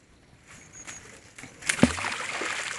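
A grappling hook thrown from a boat lands in the water with a sudden splash, followed by continuing sloshing and churning water close by.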